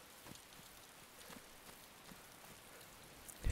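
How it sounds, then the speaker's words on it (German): Rain falling in DayZ Standalone, a soft, steady patter of drops at low level throughout, ending with a brief louder knock. "Ne, bei mir regnet es wieder, immer noch."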